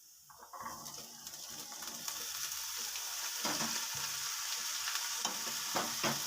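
Boiled peanuts being stirred into sautéed onions in a pan for sundal, a soft continuous frying sizzle growing slightly louder, with repeated scraping stirs of a spoon against metal.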